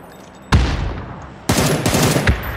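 Gunfire in a battle royale mobile game: two loud bursts of shots, the first a single sharp crack, the second a longer rattling volley with repeated reports, heard close with no talk.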